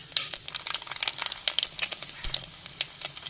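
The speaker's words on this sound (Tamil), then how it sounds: "எண்ணெய் சூடாகிடுச்சுங்க பெரிய சீரகம் போட்டுக்கிறோம் ரெண்டு கடுகு போட்டுக்கிறோம்" Fennel and mustard seeds dropped into hot oil for crab gravy, giving a rapid, irregular crackling and popping, close and fairly bright, with no talk.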